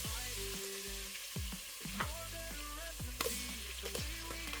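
Garlic and onions stir-fry in hot vegetable oil, sizzling steadily, while a utensil scrapes and stirs the pan with repeated short knocks, close and alone.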